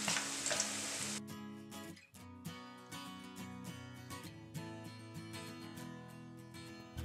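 Fish pieces deep-frying in hot oil for fish pickle, a loud continuous sizzle with crackling pops and occasional stirring clatter, no voices.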